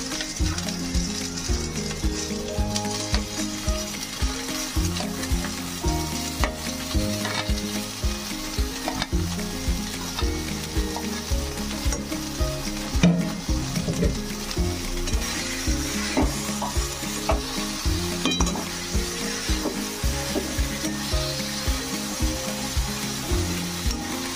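Mashed banana flower and potato are stirred in a hot pan with spices, a steady sizzle under repeated scraping strokes of a spoon, close and continuous with no voices.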